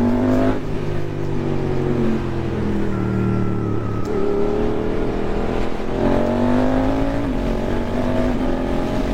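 A decatted Suzuki GSX-8S motorcycle with a Haro exhaust revs on a narrow road, its loud engine note climbing and falling through several rising pitch sweeps as it accelerates and shifts, close and continuous with no voices.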